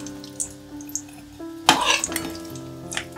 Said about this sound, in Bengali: একদিক ভাজা হয়ে গেছে খুব ভালো করে, আমি উল্টে দিচ্ছি